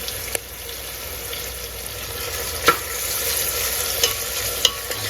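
Tomato with ginger-garlic paste sautéing in a pan: a soft, continuous sizzle broken by a few sharp clicks of a spatula scraping and stirring, close up with no talking.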